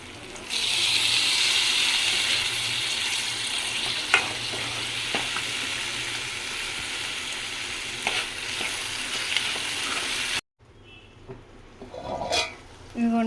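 Tomatoes sizzle loudly in a pan for a crab curry, a steady frying hiss with occasional stirring clinks, cutting briefly near the end.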